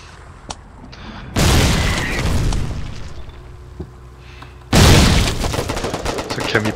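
Two heavy booming mortar blasts in the video game Foxhole, each followed by a long rumbling decay, with quieter thuds between and a voice speaking softly under them.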